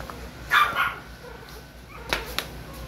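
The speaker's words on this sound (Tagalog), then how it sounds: "isi-share ko lang sa inyo ngayong gabi yung apat na papi kong Pomeranian" Month-old Pomeranian puppies give a few short, high yips and whimpers close by, scattered across a quiet room with brief pauses between the cries.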